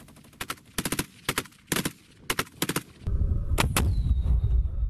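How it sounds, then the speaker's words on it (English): An RPG-30 anti-tank rocket launcher fires in a montage of weapon systems: a string of sharp, loud blasts in quick succession, followed by a heavy, sustained low rumble. "we got our first brief look at the RPG 30 being fired in a montage of weapon systems"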